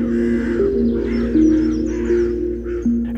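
Several crows caw repeatedly in harsh, overlapping calls over a steady, sustained tonal drone that runs throughout.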